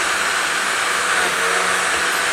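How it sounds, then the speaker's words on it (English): A shop vacuum runs steadily in a woodworking shop with a loud, constant broadband whoosh and whine, close and unbroken throughout, with no voices over it. "I'm going to go ahead and turn this vacuum off."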